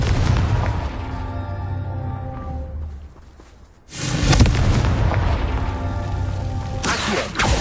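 Confringo fire spells explode in Hogwarts Legacy, heavy booming blasts that pair with a sharp burst near the four-second mark and another late in the clip, set over steady game music and ambience.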